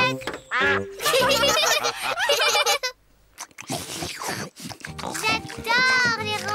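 Cartoon duck quacking in a Peppa Pig episode, short nasal quacks in bursts mixed with child and adult character voices talking and a brief splash.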